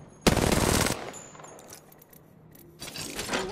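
Automatic gunfire in a battle royale video game arrives as a loud, rapid burst lasting under a second, followed by quieter scattered shots and effects, then another dense burst near the end.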